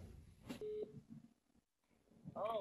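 A phone on speaker gives a few faint short tones and beeps while a call is dialed, with a brief quiet gap before a closing cluster of tones.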